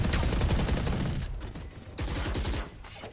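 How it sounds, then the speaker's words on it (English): Rapid bursts of automatic gunfire fired through the floor in the Valorant video game, two loud volleys separated by a short pause. "And then firing through the floor."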